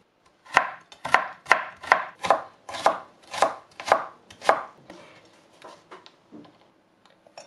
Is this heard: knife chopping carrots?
yes